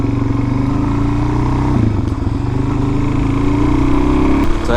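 A Suzuki DRZ400 supermoto engine drones loud and close with a steady throb, and its pitch swells slightly in a brief rise near the end.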